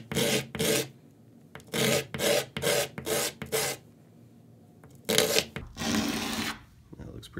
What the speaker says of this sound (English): I'm going to rub it down on the sandpaper to just kind of flatten it out.